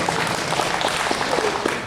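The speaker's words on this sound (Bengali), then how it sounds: "আমি একটা ছোট করে হাততালি চাই" A brief burst of dense, steady clapping from an audience at a music group's anniversary stage event, thanking the sound and microphone crew, close and fairly loud throughout.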